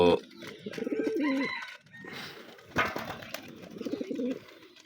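Pigeons coo repeatedly in a loft, their soft throaty calls rising and falling close by in several overlapping phrases with brief pauses between them.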